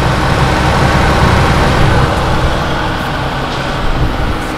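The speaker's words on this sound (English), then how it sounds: "See that fan spinning?" A Ford Escape's radiator cooling fan runs steadily in the engine bay of a crash-damaged car under repair, giving a loud, continuous broadband whoosh and hum with no break, heard close up.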